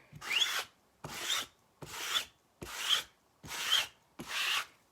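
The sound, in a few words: scraping chalk paste off a stencil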